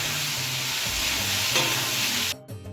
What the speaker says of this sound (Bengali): এবার হচ্ছে মশলাগুলোকে ভালো করে কষিয়ে নেবো আলুর সাথে।